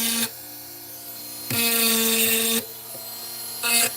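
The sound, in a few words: Dremel rotary tool shaping a curve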